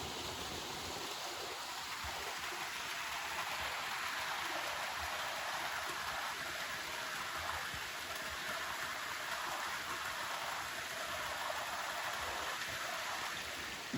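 A low creek in a fall forest at Rapidan Camp in Shenandoah flows with a steady, soft babble and trickle, continuous throughout with no talking.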